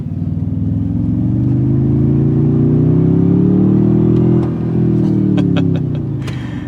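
Toyota Tundra TRD Pro, a 6,000-pound pickup truck, accelerating from inside the cab: a loud engine drone that climbs steadily in pitch, briefly dips at a shift, then pulls on with faint clicks.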